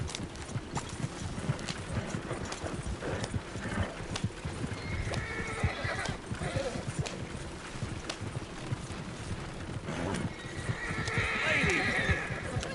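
In Red Dead Redemption 2, a horse's hooves clip-clop steadily and close throughout, with a whinny rising near the end over faint background sound.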